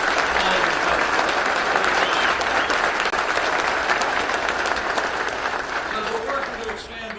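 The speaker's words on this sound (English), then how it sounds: "So to the whole Miller team, give yourselves a round of applause." An audience at a Jacksonville, Florida event with Vice President Pence gives the Miller team a round of applause: dense, steady clapping that holds loud and even throughout before easing slightly at the end.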